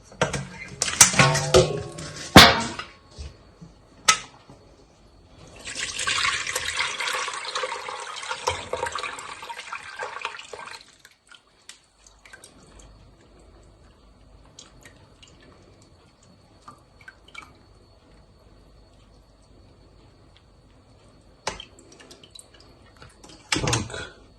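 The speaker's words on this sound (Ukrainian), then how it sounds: "зараз процідимо нашу юшечку, цю, щоб залити тепер нею наші помідори" Brine for pickling green tomatoes poured through a colander from a pot, splashing and trickling in bursts with clinks of cookware, followed by quieter drips and clatter, with a voice talking intermittently.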